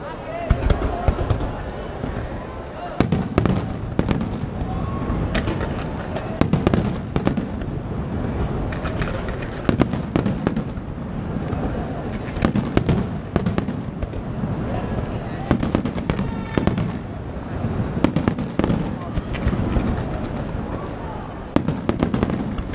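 Fireworks at the Redentore festival in Venice, 2015, cracking and booming in rapid repeated bursts, some close and loud, layered over a steady crowd murmur with voices talking throughout.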